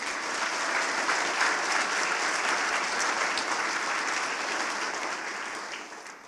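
Audience at a bushcraft symposium opening ceremony breaking into sustained, dense applause that holds steady before tapering off near the end.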